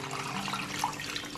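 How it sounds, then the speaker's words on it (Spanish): Water poured into a seasoning mix of onion powder and garlic powder in a home kitchen, a short continuous splashing trickle heard up close with no talking. "Y le voy a agregar ahora sí el agua."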